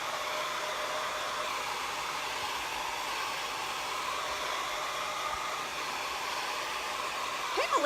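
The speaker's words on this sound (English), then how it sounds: "I just use a blow dryer and go over it for a few seconds" A blow dryer runs steadily at close range drying paste on a surface, a constant whooshing hum with no voices.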